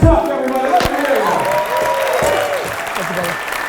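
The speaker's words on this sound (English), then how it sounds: "Round of applause, Charleston, everybody, for Gary Vaynerchuk, everybody." A Charleston crowd applauding Gary Vaynerchuk, a loud wash of clapping with a few cheers, while a voice speaks over it and sharp claps punctuate the start.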